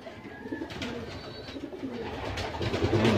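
Pigeons in a loft coo softly and repeatedly, a low burbling chorus close by with faint background rustle.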